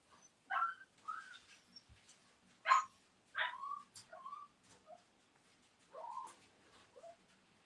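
A dog outdoors gives a series of short, sharp, whining barks and yelps, spaced irregularly and moderately close, with quiet gaps between them.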